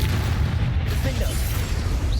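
A Defendo spell cast in a Harry Potter video game gives a dull, booming burst over a steady low rumble, with a voice faintly present underneath.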